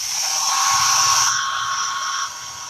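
Close, loud rushing of a hair dryer drying chalk paste on a foam or styrofoam craft pumpkin, holding steady then shifting slightly as the airflow eases toward the end.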